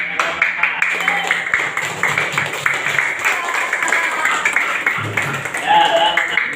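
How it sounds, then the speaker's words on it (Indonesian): A classroom of students claps after a discussion presentation on the story of Prophet Sulaiman, a quick, fairly close patter with a voice heard partway through and toward the end. "Beri tepuk tangan."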